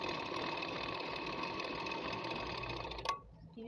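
A sewing machine stitches salwar pieces in a quick, even whirr, close by and steady for about three seconds, then halts with a small clunk and quiet.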